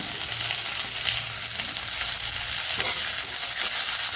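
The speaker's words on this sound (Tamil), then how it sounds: "இப்போ நம்ம சுத்தம் பண்ணி வச்ச கருவேப்பிலையும் புதினா இலையும் அது கூட சேர்த்துக்கலாங்க." Curry leaves and mint leaves frying in oil in a pan, a dense, steady crackling sizzle with some stirring, close and continuous with no voices.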